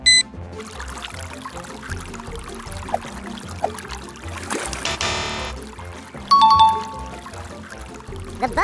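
A LEGO water pump in a toy dinosaur-park build pushes a stream of water along a boat ride, trickling and pouring steadily under light background music with chiming tones.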